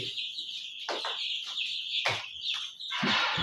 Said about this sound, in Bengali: দেখেন আমার মুরগির বাচ্চাগুলো কত ফুরফুরা, এখন ওরা দুষ্ট হয়ে গেছে, মারামারি করে।